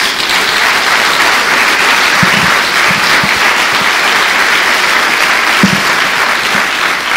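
A church congregation claps loudly and steadily at a Portuguese-language worship service, a dense unbroken wash of applause with a few low thumps underneath.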